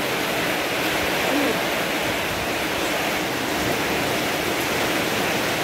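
Steady, dense rush of heavy rain, a continuous broadband hiss with no breaks, close and fairly loud throughout.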